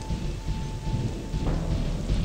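A lightning spell cast in the video game Gothic crackles and rumbles like a thunderstorm, a sustained stormy roar with a thin tone fading midway, without voices.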